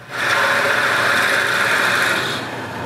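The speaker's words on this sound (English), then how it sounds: "I install the lathe's chuck and drill a hole in their center" A wood lathe with a chuck-mounted drill bores into the center of small wooden parts, a loud close whirring hum that rises quickly, holds steady for about two seconds, then winds down.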